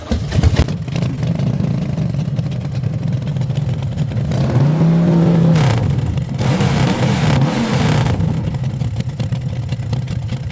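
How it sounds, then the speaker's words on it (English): A motorbike engine revs continuously, its pitch swelling and dipping in rough waves, loud and close with no voices. "turn off your bike engine so it's not revving all the time"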